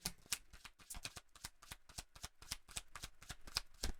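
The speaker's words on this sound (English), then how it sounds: "Let me get through this one shuffle and then I'll start reading it." A deck of tarot-style reading cards is shuffled steadily by hand, producing continuous quick papery flicks and soft slaps in a fast, uneven rhythm, close up but quiet.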